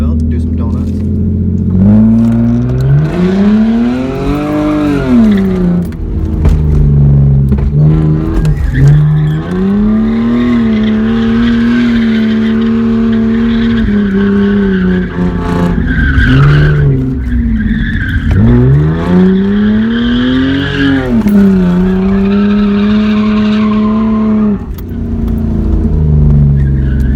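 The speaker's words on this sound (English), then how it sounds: "Small break for the timing belt, do some donuts." A car spinning donuts, with loud continuous engine revving and tire skidding whose pitch sweeps up and down in repeated loops, close and sustained throughout.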